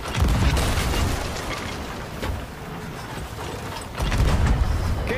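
Ship cannons booming in the pirate video game Sea of Thieves, a loud sustained barrage of low blasts with heavier bursts near the start and end, no talking over it.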